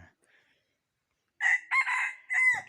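A junglefowl rooster crows loudly nearby, one long strained call in several bursts after a brief quiet stretch.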